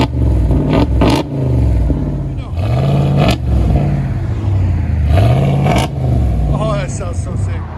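A RAM 2500 Power Wagon with a 6.4L HEMI, fitted with an aftermarket exhaust, revs repeatedly in deep, loud bursts that rise and fall. Voices talk briefly between the revs.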